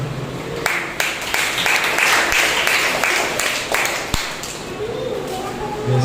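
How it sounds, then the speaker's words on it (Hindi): A church congregation at a Sunday service claps loudly and steadily for several seconds, with a dense, sustained wash of clapping that briefly sounds mixed with voices. "आइए हम उस सच्चे और जिंदा परमेश्वर के लिए जोरदार तालियां हो गए"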